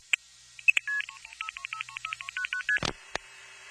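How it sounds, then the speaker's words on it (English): Touch-tone beeps from a landline telephone keypad as a number is dialed: a quick run of about a dozen short, evenly spaced tones at close range, framed by a few clicks and a sharp knock near the end. "This was a landline phone, so I had to push a series of buttons, actual physical buttons, to dial the number."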